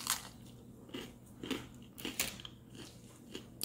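Crunchy bread bitten and chewed up close, a few sharp crackling crunches spaced out over several seconds, with no talking.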